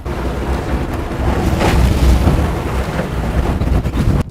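Strong gusting wind roars across the microphone, a loud rumbling buffet that swells in the middle, with no talking, out on the water on a fishing boat in the Florida Keys.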